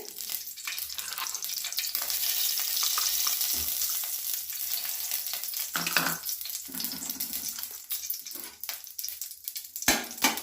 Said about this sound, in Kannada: ಈಗ ತುಪ್ಪ ಹಾಕ್ತಾ ಇದ್ದೀನಿ